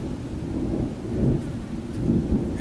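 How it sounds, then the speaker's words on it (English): Thunder rolls outdoors on a hot day, a deep, sustained rumble that swells twice over a few seconds, loud and steady beneath a faint hiss of rain, with no talking. "And yes, that was thunder."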